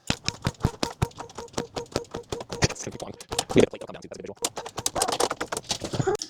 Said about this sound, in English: then we can pump the lift up like this, get the lift into the vehicle